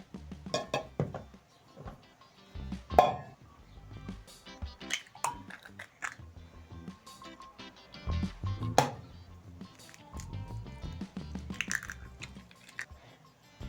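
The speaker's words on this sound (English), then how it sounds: "I'm going to be cracking 2 eggs for 1 chapati in my cup" Two eggs are cracked into a cup for a Ugandan chapati rolex, with sharp shell cracks spaced several seconds apart among clinks and handling noises of the cup and utensils.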